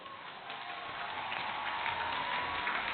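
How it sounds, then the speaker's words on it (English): Convocation audience at North South University's graduation ceremony applauding the graduates, a steady dense wash of many hands clapping for three seconds, even and unbroken, heard from within the hall. "Ladies and gentlemen, please give a big round of applause."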